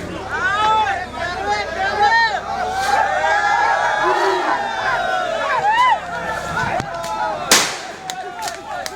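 Crowd of locals cheering and shouting with excitement as a baby tusker elephant is brought up from a well, a dense babble of many voices with whistle-like cries and a sharp burst near the end.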